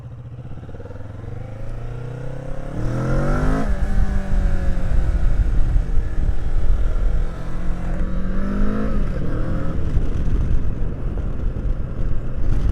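A 2015 Kawasaki Vulcan S engine idles, then revs up and down in rising and falling sweeps, loud and close, with a steady throb between the revs.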